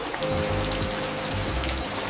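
Heavy rain pours down at night in a jungle, a dense, steady hiss of drops drumming on surfaces close by, with no voices over it.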